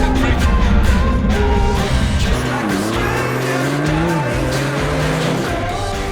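A Hyundai Avante hybrid brakes hard, its tires squealing loudly while a falling whine slides down as the car slows, then settles into steady road noise.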